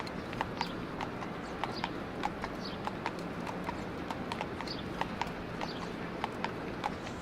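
A horse's hooves clip-clop in a steady walking rhythm while pulling a carriage, crisp regular knocks over a soft constant rolling rumble.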